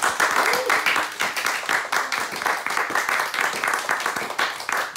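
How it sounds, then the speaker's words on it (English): An audience applauds after a coding presentation: dense, steady clapping from many hands fills the room for several seconds, with some murmuring mixed in. "So let's give them a round of applause"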